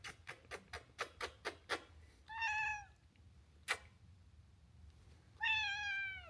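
A cat meows twice in drawn-out, whining calls, close and clear, after a run of quick clicks and a single sharp tick in a quiet room.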